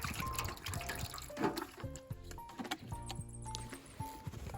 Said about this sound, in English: put some water here.